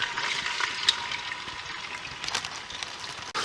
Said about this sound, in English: now we're just going to stir it around in the melted lard